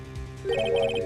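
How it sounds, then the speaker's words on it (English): A phone ringtone in the Ace Attorney video game, a short bright electronic melody of repeating tones that starts partway through, loud and close, after a brief spoken phrase. "I heard the phone ring just now."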